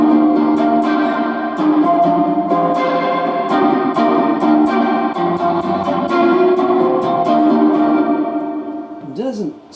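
An electric guitar plays through a JHS reverb pedal with Marshall-style overdrive, sustained distorted chords and notes ringing out with a wash of reverb, loud and alone before trailing off at the end.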